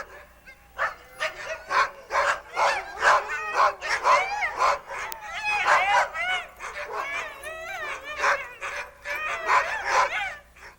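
Sled dogs in Alaska bark and yip excitedly, a dense chorus of repeated barks and whimpers close by, with no speech over them.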